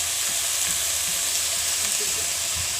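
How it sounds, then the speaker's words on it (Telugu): Sambar vegetable curry with amaranth greens and turmeric is stirred in a pan over a dense, loud, unbroken sizzling hiss, with faint stirring movements beneath and no talking. "మా అమ్మ కెలుపుతుంది"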